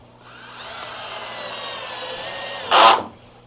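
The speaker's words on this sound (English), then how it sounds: "currently I'm just putting a few of these screws down" A power drill driving screws into a plywood saltwater aquarium build, a steady whirring run lasting over two seconds that ends in a louder, brief burst as the screw seats, close and without talk.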